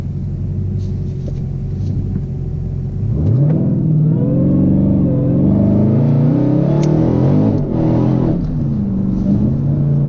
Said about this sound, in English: let you guys hear the exhaust from outside and inside the car